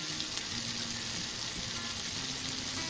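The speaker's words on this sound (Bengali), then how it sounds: "দেখো তরকারি তুলছে ছিরিক ছিরিক করে। যারা যারা আমার মাকে দেখতে চাও, এই দেখো আমার মা রান্না করছে।" Curry frying in a pan as a mother cooks at home, a steady close sizzle and crackle of oil running throughout with no talk.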